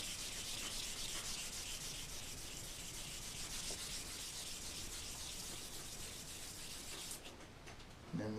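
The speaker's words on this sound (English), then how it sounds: "we just want to run it over one more time with a 400 grit sandpaper." A metal part, stripped of its old bluing, is rubbed by hand with 400 grit sandpaper in steady, continuous strokes for about seven seconds. The sound is close and fairly faint, then stops with a brief handling noise at the end.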